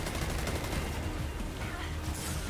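Enemy gunfire in Destiny 2 keeps up as a dense, continuous rattle of shots at moderate volume with no clear breaks.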